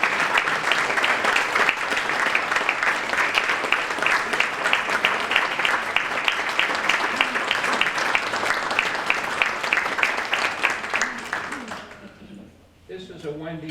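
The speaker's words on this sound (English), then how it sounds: "let's applaud for her." An audience applauds at an award presentation during a Grant bicentennial keynote, dense sustained clapping for about twelve seconds before it fades and a voice begins.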